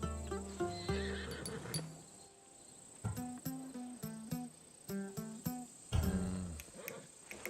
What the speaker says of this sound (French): Un vrai cheval de guerrier.